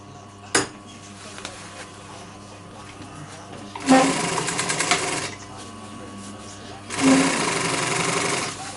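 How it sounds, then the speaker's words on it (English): A sewing machine stitches sofa upholstery fabric around piping in two loud, close bursts of rapid mechanical whirring, separated by a quieter pause with a single click at the start. "And I go sew around the front square."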